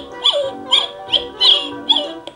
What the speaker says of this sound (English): Goddard's bark is not that bad. He sounds quite cartoony and happy.